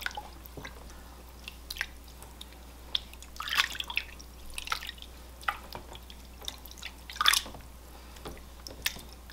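Yarn being gently moved in a basin of cold water during lemon-juice dyeing, with soft intermittent splashes, drips and squishy wet sloshes close by over a low steady hum, no talk.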